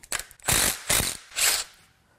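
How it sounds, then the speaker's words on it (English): A hand ratchet working on a bracket of an LT1 350 V8 engine during a teardown, heard up close as three loud bursts of rapid clicking pawl strokes, with no talking. "Before we start on the head, we have one more bracket to pull."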